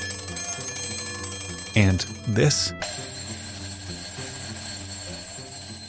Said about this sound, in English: once the alarm clock entered the household with sounds like this